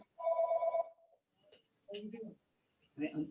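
A telephone bell rings in a clear burst of about half a second, then cuts off, followed by a faint second tone. A voice speaks briefly close by after the ringing stops.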